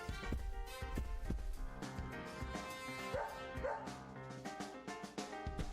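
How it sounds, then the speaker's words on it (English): A dog barks and yips a few times in the video game Deadly Premonition, the calls short and mid-distance, set against a steady bed of game music. "Are we just gonna follow this dog all the way around?"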